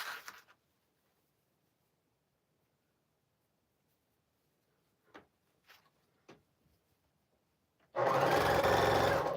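A sewing machine stitches a basic quilt: after near silence with a few faint handling clicks, the machine bursts into a loud, steady, close-up run of rapid stitching.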